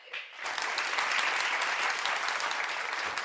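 A crowd bursts into sustained applause after a brief quiet start, steady and dense clapping continuing to the end.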